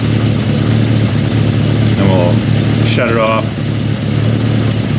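A 1950 Buick Roadmaster engine idles steadily and loudly throughout, a constant low rumble with belt whine, while a voice briefly speaks over it midway.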